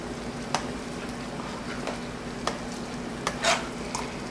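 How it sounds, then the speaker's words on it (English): A bolognese sauce with tomato paste, white wine, milk and basil is stirred in a pot, giving soft wet scraping and a low bubbling hiss, with a few sharper knocks of the spoon against the pan, close up and without talk. "And we're going to mix it up really well"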